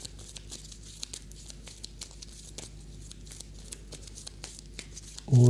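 Sleeved cards for the Imperium board game are shuffled by hand, giving quiet, close crinkling plastic riffles and soft clicks in an irregular rhythm, ending with a sudden louder thump.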